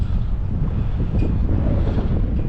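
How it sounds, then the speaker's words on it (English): Steady, loud wind buffeting the microphone outdoors near the old mountain town of Ward, Colorado, a constant low rumbling roar with no break and no voices. "And of course the wind's coming back."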